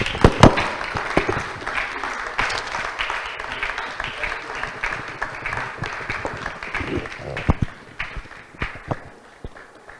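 A conference audience at a pipeline systems event applauds after a speech, with dense, sustained clapping from many hands that thins out toward the end.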